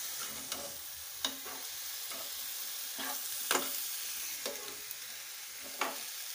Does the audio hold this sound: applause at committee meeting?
no